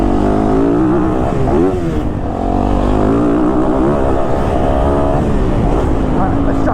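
A 2022 Yamaha YZ450FX dirt bike riding around a dusty track, its engine loud and close with a steady droning roar that rises and falls as the throttle changes, and a voice talking over it.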